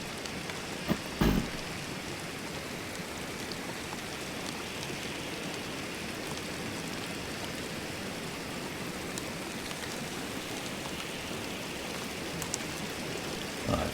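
Steady broadband water wash fills the scene in The Long Dark's community-made Shattered Marsh map, a continuous rushing flow like a river below, constant and fairly loud with a brief knock near the start.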